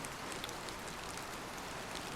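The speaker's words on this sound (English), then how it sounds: "reminding you that it simply rains when it does" Steady rain falls with an even, close hiss and faint scattered drop taps, continuous and unbroken from start to finish.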